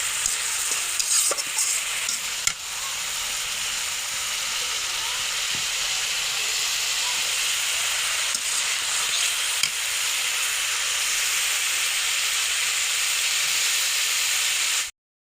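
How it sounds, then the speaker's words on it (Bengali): Dried fish sizzling in a hot pan, a steady, close frying hiss with occasional stirring scrapes and clicks, continuous for about fifteen seconds before cutting off abruptly. "এই যে শুটকিটা ভাজা ছিল, এখন আমরা দিয়ে দেবো ভাজা করার জন্য"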